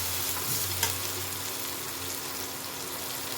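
Chopped green chillies sizzle in a pan of hot oil while cooking egg tarka, a soft steady frying hiss with a brief stirring clink near the start.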